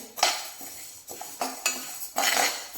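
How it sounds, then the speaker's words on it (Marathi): A spoon scrapes and clinks in bursts as lentils roast in a pan over a low-to-medium flame, with several uneven stirring strokes close up and no voices. "छान अशी भाजून घ्यायची आहे डाळ बघा डाळीचा कलर लगेच चेंज झाला कंटिन्यू हलवत राहायचं आहे"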